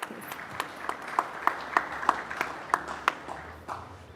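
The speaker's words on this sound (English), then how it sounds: "a big round of applause for this wonderful panel" Scattered clapping from a small audience, a few dozen sharp claps in a loose rhythm rising and then thinning out over a few seconds.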